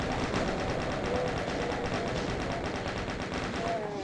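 A chain gun fires in the video game DOOM, a rapid, continuous stream of loud mechanical shots with a steady, even rhythm throughout.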